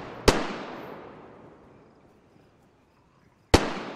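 Two sharp, loud gunshots in DayZ, spaced a few seconds apart, each followed by a long fading echo tail into near silence.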